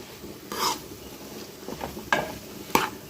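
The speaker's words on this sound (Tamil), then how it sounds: "இந்த வெண்டைக்காய் கொஞ்சம் வதங்கட்டும்." Okra sautés quietly in a pan, a low soft sizzle punctuated by a few sharp scrapes and clinks of a utensil against the pan, close, with no talk.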